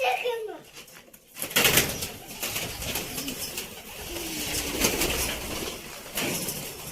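Soft pigeon coos and a brief flutter of wings sound nearby while children and an adult talk over them.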